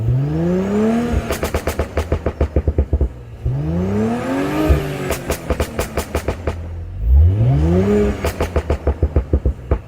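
A Stage 1 tuned car engine with the soft limiter removed revs hard three times, each climb to high pitch followed by rapid popping and crackling from the exhaust, loud and close.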